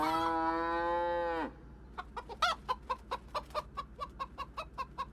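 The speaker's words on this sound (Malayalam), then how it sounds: "ബാക്ക്ഗ്രൗണ്ടിൽ കോഴിയുടെയും പശുവിൻ്റെയും സൗണ്ടൊക്കെ കേൾക്കുന്നുണ്ടല്ലോ" A cow lets out a long, drawn-out moo, and then a chicken clucks in a quick, steady series of sharp calls. Both come from the background of a farmyard with no talk.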